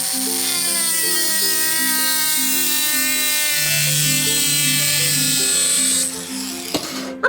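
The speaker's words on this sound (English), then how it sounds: "what actually ended up working was a disc grinder, and you just follow that line that you drew right down the middle" A disc grinder whines steadily at high pitch while it cuts through a Kydex sheet for kayak hull protection, holding a loud, constant tone with a low rumble beneath before the whine drops away near the end.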